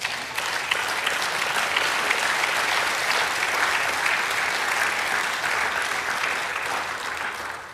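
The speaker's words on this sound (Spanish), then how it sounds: "Sí, aplaude." A church congregation applauds during a prophetic sermon, loud, dense clapping filling the space without a break, steady and sustained all the way through with no speech on top.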